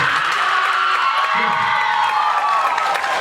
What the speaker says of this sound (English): If you're going to applaud somebody, applaud them.